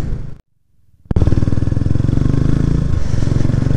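A Kawasaki 250TR motorcycle with a loud exhaust in Hokkaido cuts out briefly, then fires up into a close, throbbing, steady idle with a rough, pulsing beat.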